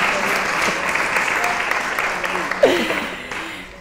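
An audience at a Spanish talk show claps steadily for several seconds, a dense, close round of applause that tapers slightly toward the end, with a brief voice heard over it.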